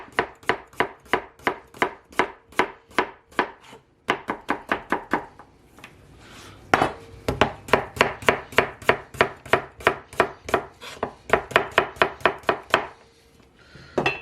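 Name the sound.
knife slicing a red potato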